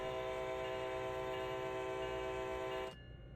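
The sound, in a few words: train horn sounding before departure, Train Sim World video game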